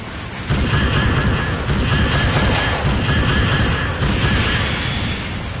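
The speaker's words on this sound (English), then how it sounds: "the pistol shots are so loud" Loud video game gunfire, pistol shots fired in a rapid, overlapping barrage with booming impacts, continuous and close.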